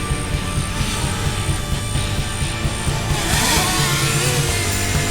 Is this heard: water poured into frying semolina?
no